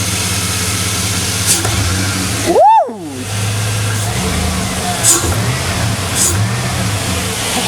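A Chevy 5.3 V8 engine fitted with a Delta Force intake idles with a deep, steady rumble, then revs sharply once with a rising and falling roar before settling back; a voice briefly cheers.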